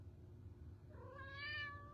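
A young cat gives a single drawn-out meow, faint but clear over a low steady hum in a quiet indoor room.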